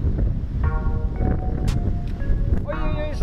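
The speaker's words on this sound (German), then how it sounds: "Aber heute pfeift der Wind hier voll gegen mich." Strong wind by a lake during a fishing trip buffets the microphone with a constant low roaring rumble, while someone talks over it throughout.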